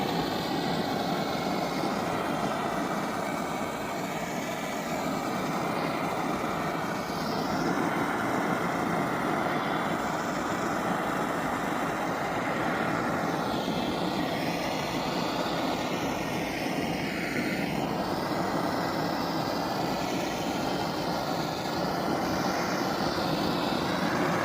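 Plywood being power-sanded inside a van during a camper conversion: a steady, dense mechanical whir and rasp that runs loud and unbroken throughout, with no talking.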